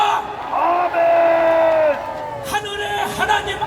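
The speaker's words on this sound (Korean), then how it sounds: "우리의 이 함성 소리가 청와대에 올라간 것을" A large crowd at an outdoor rally in Gwanghwamun, Seoul, shouts and cheers in a long, loud swell of massed voices, with whoops rising above the roar and a second burst of cheering near the end.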